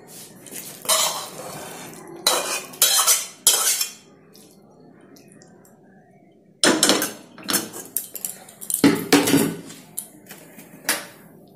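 Clanking metal pot and utensils as a pot of mushroom curry is lifted off a home stove, with bursts of scraping and knocking separated by quiet stretches.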